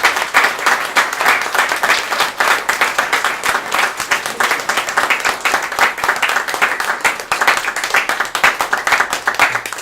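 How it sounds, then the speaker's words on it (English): An audience at a coffee history book event claps steadily for the guests, a dense sustained round of applause from a roomful of people with no speech over it. "Can we give them a round of applause, please?"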